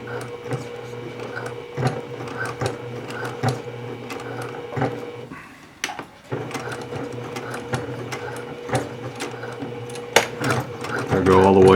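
A sewing machine stitches down binding on a Lutterloh pattern garment in uneven bursts, its rapid mechanical chatter pausing briefly midway, with a voice talking over it.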